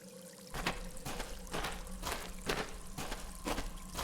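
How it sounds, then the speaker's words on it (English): Running water in a natural well within a video game, a soft steady pour and trickle with repeated rhythmic splashing pulses about once a second, faint and alone. "It's a natural well formed by the running water."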